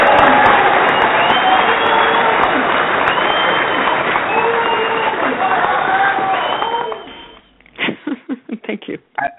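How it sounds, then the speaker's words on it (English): An audience claps loudly and steadily for about seven seconds, a thick continuous patter that then cuts off, followed by someone speaking. "I definitely want to give you a round of applause."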